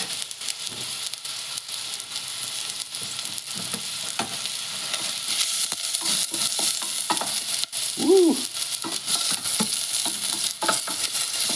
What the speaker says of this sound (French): On va laisser revenir un tout petit peu les oignons.